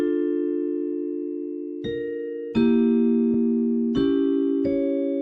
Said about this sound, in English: the Vespertone Celeste preset is sounding like this